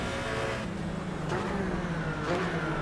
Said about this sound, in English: is the Porsche Cayman GT4 round Brands Hatch